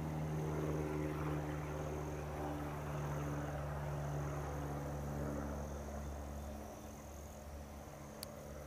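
A steady low engine drone of a propeller airplane passing overhead, fairly faint and constant, slowly fading toward the end.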